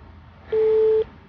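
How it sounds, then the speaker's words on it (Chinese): A single telephone busy tone sounds for about half a second, a clean steady beep standing out clearly over faint room noise. "您拨打的电话正在通话中，"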